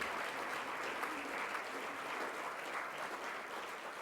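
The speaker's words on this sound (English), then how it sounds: "can we have a warm round of applause for all the graduates now here?" An audience at a doctoral convocation ceremony gives graduates a sustained round of applause, a dense, even wash of clapping that holds steady throughout without pause.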